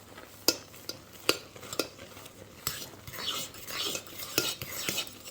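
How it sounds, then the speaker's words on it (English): A cooked shampoo bar soap mixture being stirred quickly in a pot, with sharp metallic clinks of the utensil against the pot at irregular intervals and a thick, soft swishing in between. "So we're going to quickly stir it up."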